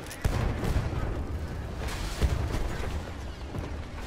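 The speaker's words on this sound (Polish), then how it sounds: "O, wybuch mnie wyręczył," Explosions and gunfire in the World War I shooter game Battlefield 1, a dense continuous rumble with several sharp booming hits throughout, loud and close with faint voice underneath.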